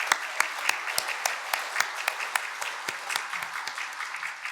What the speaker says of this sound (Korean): 하나님께 박수로 영광 드리겠습니다